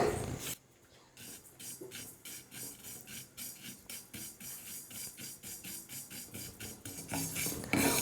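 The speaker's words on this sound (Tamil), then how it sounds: "ஸ்டவ் மேலே ஒரு கடாய் வச்சுட்டு கடாய் சூடு ஏறினதுக்கு அப்புறமா எடுத்துருக்கிற சேமியாவை கொஞ்சம் லைட்டாக வறுத்துக்கிறேன்" Dry vermicelli stirred in a hot kadai for payasam makes a steady, rhythmic scraping and rustling, repeated strokes close by and moderately loud, with no talking.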